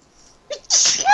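One close, loud sneeze from a person at a Dungeons & Dragons tabletop game, a short intake of breath followed by a forceful explosive burst.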